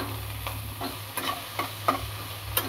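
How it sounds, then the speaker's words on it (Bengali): Pumpkin greens stirred in oil with panch phoron in a wok sizzle softly, broken by several short scraping strokes of the spoon at an uneven rhythm. "একটুখানি নেড়ে নেবো কুমড়ো শাকটাকে হালকা।"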